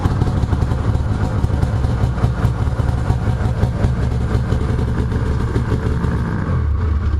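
A 2004 Arctic Cat Sabercat 700 EFI snowmobile with a loose motor mount idles roughly nearby, giving a steady, uneven mechanical drone that settles lower just before the end.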